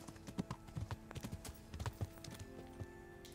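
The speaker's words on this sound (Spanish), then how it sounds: "Están los caballos y este es Kuno, ¿no? Ahora están llegando." Several horses' hooves clip-clop in the medieval game Kingdom Come: Deliverance, an irregular run of soft thuds and taps with a faint tone lingering behind them, fairly quiet and without speech.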